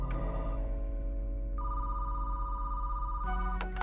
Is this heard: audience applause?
no